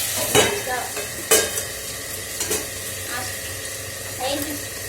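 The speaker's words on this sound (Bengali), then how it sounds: "ভিন্ডি আলু ভাজতে দিয়েছি।" Okra and potatoes fry in a home kitchen pan with a steady sizzle throughout, broken by a few sharp stirring scrapes and clatters, heard close and without talk.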